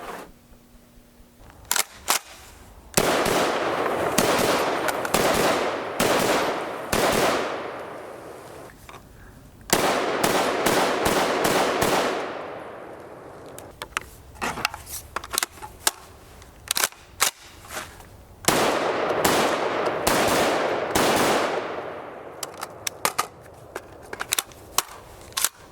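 A Desert Tech MDR .308 bullpup rifle firing at an outdoor range, with loud, sharp shots in irregular clusters across the clip, each followed by a short ringing decay.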